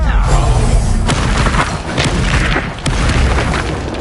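Spell blasts and explosions in the Hogwarts Legacy video game, loud booming thuds and crashes with sharp impacts that repeat over a dense, noisy background.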